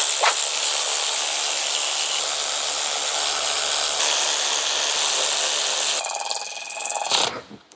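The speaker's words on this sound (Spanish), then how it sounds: "Ahora cogemos nuestra herramienta eléctrica y lo que vamos a hacer es aproximarla" A Ryobi power tool whirs continuously, running bolts down on a PureTech engine block, a loud close grinding hiss that shifts pitch near the end and stops abruptly.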